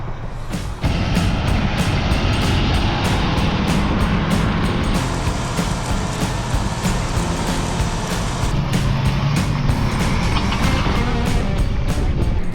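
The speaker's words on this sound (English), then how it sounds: "So let's head on inside the cab, start rotary hoeing." A farm tractor pulling a rotary hoe across a field, heard from inside the cab: a loud, steady engine drone with clattering rattles that starts abruptly and continues without letup.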